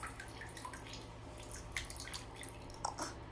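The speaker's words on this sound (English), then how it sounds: "But the water's coming out." Water trickles and drips from a very old container with three leaks, a steady low wash of liquid with a few sharper drip splashes, close and fairly quiet, no voices.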